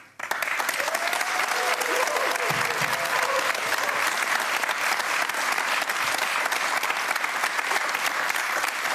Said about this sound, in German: Großen Applaus für Sabrina.